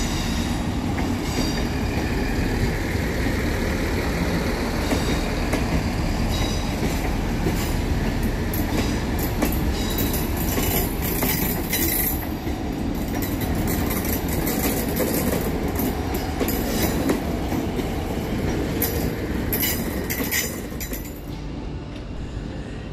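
Trains at Birmingham New Street station, including Class 350 and Class 158 units, rumbling and clanking continuously with metallic clinks and faint wheel squeals under a busy station ambience.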